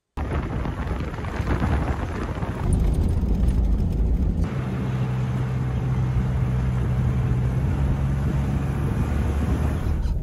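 A car towing a 1968 Glendale Voyager trailer along a bumpy logging road in the Quebec wilderness gives off a steady, loud, close rumble of engine and road noise that deepens partway through, with no talking.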